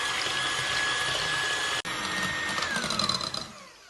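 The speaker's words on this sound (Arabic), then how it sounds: "نضربو مليح هاد البيض مع السكر." Electric mixer beating eggs with sugar, a steady high whirring hum that briefly cuts out and restarts, then winds down at the end.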